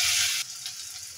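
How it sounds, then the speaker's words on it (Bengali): Garlic paste with a little turmeric frying in hot oil, a brief loud sizzle that drops suddenly to a quieter hiss partway through. "রসুনটাকেও আমি ভেজে নেব।"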